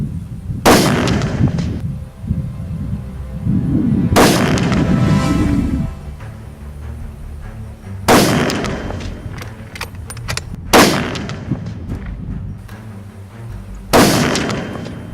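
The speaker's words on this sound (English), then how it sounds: "going to be shooting this target from 100 meters away" Rifle shots firing RUAG Swiss P ammunition at a target 100 meters away, five loud booming reports spaced a few seconds apart, each ringing out with rumbling echo in between.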